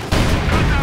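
A loud, dense burst of gunfire and explosive impacts from a battle in Company of Heroes 2, including an IS-2 tank's gun hitting its target, filling the whole short moment with continuous crackling blasts.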